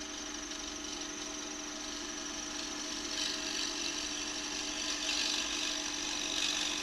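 Gouge cutting passes on a wood bowl spinning on a lathe, a steady close hiss and whir of the tool shearing the grain, continuous and even with a slight swell in the later passes.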